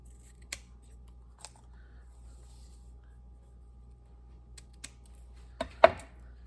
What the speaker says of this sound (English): Trim the edges.